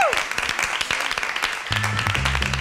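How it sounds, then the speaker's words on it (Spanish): Studio audience applause on a Spanish satirical comedy show, a dense, lively patter of many hands sustained throughout, with a few louder individual claps and a brief musical tone near the end. "Un aplauso. ¡Bravo! Para esas críticas."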